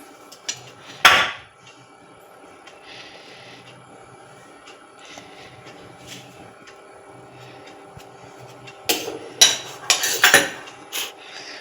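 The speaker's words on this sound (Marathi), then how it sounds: "आता आपण ह्याला बटर लावून घेऊ." A knife spreads butter over a slice of bread for a simple sandwich, with short, close scraping and clinking bursts near the start and a cluster of them toward the end, and a quiet pause in between.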